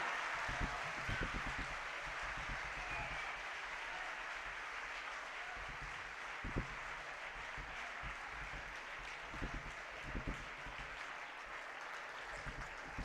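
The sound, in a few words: applause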